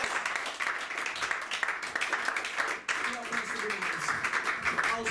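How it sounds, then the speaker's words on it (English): A church congregation claps together during an evening service, a dense, steady patter of many hands sustained throughout with some voices mixed in. "let's give God a clap for double tonight"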